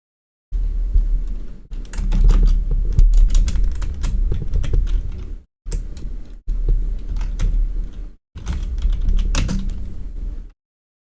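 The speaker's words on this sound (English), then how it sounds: "GM is typing." Rapid typing on a computer keyboard, close and clear, coming in bursts separated by short silences.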